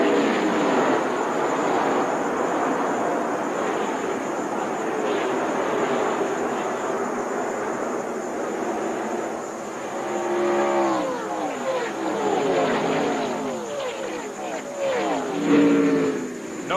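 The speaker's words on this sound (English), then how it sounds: "when they fire them up and all cars roar into the first turn" Pack of NASCAR Busch Series race cars roaring into the first turn at Daytona, a broad continuous engine roar with rising and falling pitch sweeps as cars pass, steady and loud throughout under a sustained crowd-like wash.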